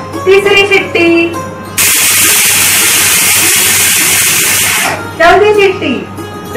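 A pressure cooker cooking tomatoes for sauce releases one sustained, loud hiss of escaping steam for about three seconds, close by, bracketed by a woman's short spoken remarks.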